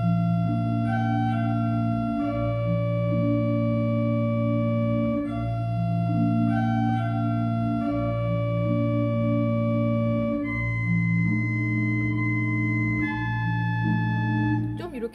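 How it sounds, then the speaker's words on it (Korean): Pipe organ on the Montre 8 (Principal 8) stop, playing a steady, sustained melody over held chords, clear and moderately loud with no voices. "몽트르 8은 프린치팔 8이에요."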